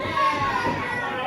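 Wrestling crowd at a Stride Pro Wrestling event chanting for Spade, a dense, continuous wash of many voices filling the hall, loud and sustained throughout.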